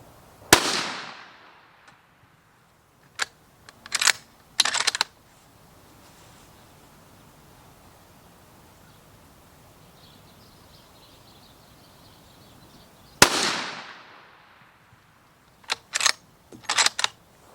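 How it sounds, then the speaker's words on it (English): A Ruger American rifle in 350 Legend fires a three-shot group on an outdoor range, sharp loud reports spaced seconds apart, each followed by brief handling clatter, with quiet ambience between shots. "now we're going to shoot a 3-shot group down there and see how it does"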